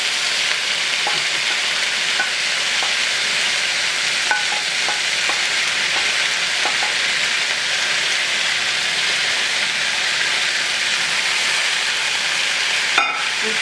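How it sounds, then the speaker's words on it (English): Steady sizzle of stir-fried vegetables being stirred in a pan for a spiced shrimp stew, a continuous hiss with occasional utensil scrapes and clicks, close by and without talk. "Stir this around"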